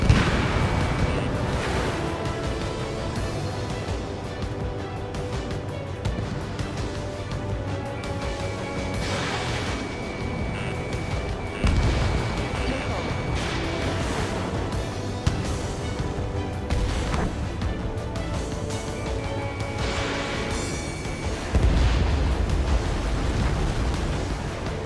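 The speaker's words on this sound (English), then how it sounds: "The enemy's airstrikes have fallen." Airstrike explosions from the video game Ace Combat 7, heavy booming blasts rolling one after another over a dense, sustained rumble of combat noise.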